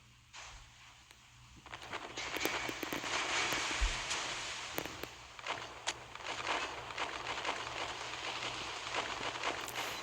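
Secondary guns of the battleship Gascogne in the naval combat game Naval Creed fire in a rapid, crackling stream of faint pops and bursts over a hissing background, with no talking.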